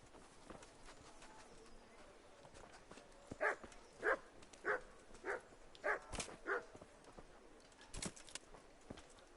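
A dog barks in a medieval game world in Kingdom Come Deliverance, a run of six evenly spaced yaps at moderate distance over quiet ambient background.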